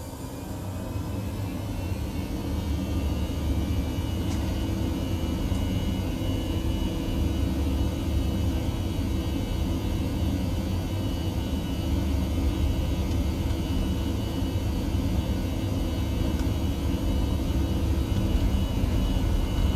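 An Air India Airbus A321 on its takeoff roll, heard from the cockpit as a steady, dense engine roar and rumble that continues unbroken throughout.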